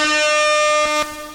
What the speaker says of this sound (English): Where's the air horn for them?